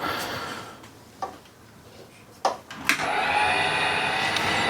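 A wood lathe turns a piece of Katalox while a 12mm spindle gouge cuts it, starting with a few sharp scraping bursts before settling into a steady, close, broadband whir of the spinning blank and the tool.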